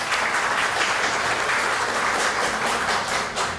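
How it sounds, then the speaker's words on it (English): A crowd at a ribbon cutting ceremony claps in sustained, dense applause, loud and even throughout with no talking over it. "Let's give her a round of applause."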